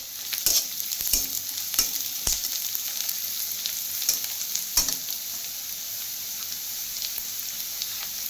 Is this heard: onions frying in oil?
yes